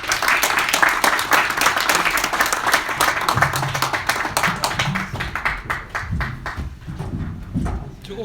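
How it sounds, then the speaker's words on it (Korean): Applause from an audience at a political debate forum, steady and sustained throughout, with some murmuring voices mixed in. "큰 박수를 좀 보내주십니다"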